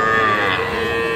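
A young bull calf at a cattle market gives one loud, close, sustained moo that fills the short moment on its own.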